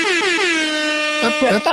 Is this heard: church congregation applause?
no